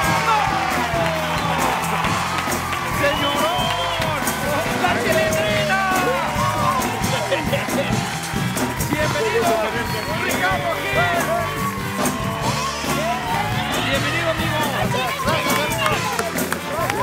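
A studio audience on the Noches con Platanito show cheers and applauds comedians La Chilindrina and others, loud sustained crowd roar with whoops and clapping filling the whole stretch, voices shouting over it.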